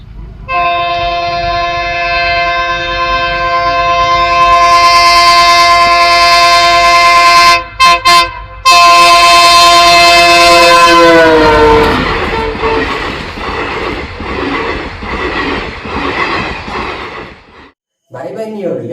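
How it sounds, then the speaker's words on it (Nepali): A train sounds its horn as it approaches from a distance, the sustained chord sliding downward in pitch as it nears and passes, followed by the loud rumble and rattle of the passing cars, then a brief horn toot near the end. "भिडियोमा ट्रेन टाढाबाट नजिकतिर आउँदै गर्दा साउन्डमा कस्तो खालको चेन्ज पाउनुभयो"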